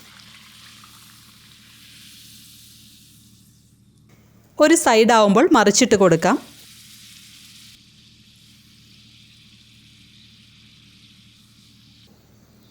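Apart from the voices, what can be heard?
puris deep frying in hot oil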